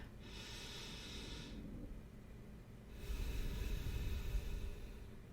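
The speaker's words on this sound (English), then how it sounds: "take a deep breath" A single deep inhale through the nose, then a longer, heavier exhale, close and soft in a quiet room during a guided meditation.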